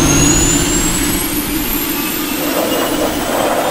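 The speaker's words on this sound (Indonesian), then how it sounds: "Mobil balap yang biasanya punya karakter suara gahar, namun kali ini seperti pesawat jet yang mau take off." A gas turbine engine in a race car lets out a loud, steady jet-like roar with a high whine on top, like an aircraft taking off, heard alone and close for a few seconds.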